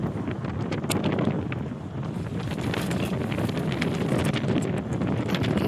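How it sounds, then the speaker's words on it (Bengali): Wind blowing outdoors on a winter road trip in Mainpat, a continuous rough buffeting and rumble across the microphone with steady gusts throughout. "বাইরে বেশ হাওয়া আছে"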